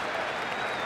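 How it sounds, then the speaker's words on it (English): A mixed stadium crowd at a Mets at Phillies baseball game cheers and claps in a broad, distant wash of noise, continuous and moderately faint. "They've been up and down, cheering."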